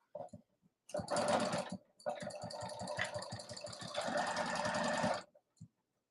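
A sewing machine struggling with Gutermann thread runs in short bursts, a rapid rattling chatter with uneven pulses, stopping and restarting several times, close and loud.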